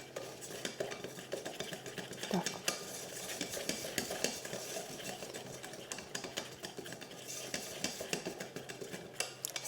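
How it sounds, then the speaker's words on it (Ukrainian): A utensil stirring and scraping around a saucepan of cake custard mixture over heat in steady, repeated strokes, with light metallic clinks and a soft simmering hiss beneath. "Все, мішаю, вот так постоянно помішую в сотейничку."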